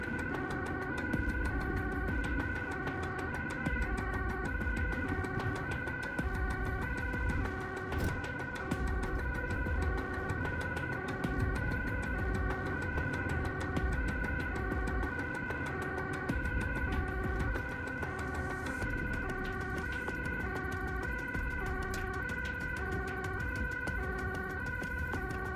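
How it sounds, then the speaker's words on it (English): A loud, continuous two-tone ambulance siren wailing back and forth in a steady repeating pattern, with Amsterdam rush-hour traffic rumble underneath, approaching a hospital entrance. "The sirens go off as we approach the entrance to the hospital."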